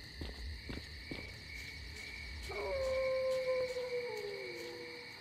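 Mutant dogs howl in the S.T.A.L.K.E.R. Clear Sky video game, a long wavering distant howl rising over constant insect-like chirping and a few dull thumps.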